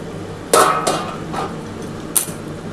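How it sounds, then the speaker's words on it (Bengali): A lid comes off a cooking pot of whole lote fish curry with potatoes simmering on a low gas flame, giving two or three close, sharp metallic clinks over a faint steady background. "এবার একটু ঢাকাটা খুলে দেখি"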